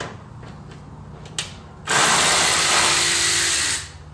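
Ratchet loosening a 10mm bolt on a Subaru WRX during a Cobb intake install: a short click, then a continuous loud rapid ratcheting burst lasting about two seconds, close up.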